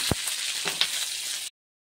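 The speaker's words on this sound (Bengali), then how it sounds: "বড় বড় করে পেঁয়াজ কাটাগুলো দিয়ে আর একটু নেড়ে নেব।" Onion and garlic sizzle loudly in a pan, a bright steady frying hiss with a couple of stirring knocks, cutting off abruptly after about one and a half seconds.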